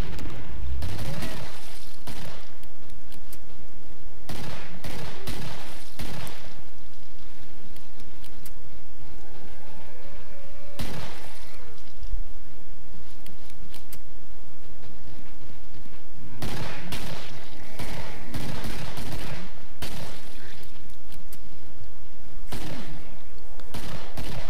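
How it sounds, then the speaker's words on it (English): Gunfire in the video game Killing Floor, including pistol shots. Loud, dense bursts of rapid shots come in clusters with short gaps, close and continuous, mixed with other game noise. "Kill the last ones with my pistol."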